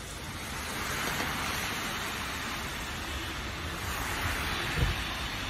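Heavy rain pours at the Kaaba in Mecca, Saudi Arabia, a steady, dense, even hiss that holds at the same level throughout, with no voices.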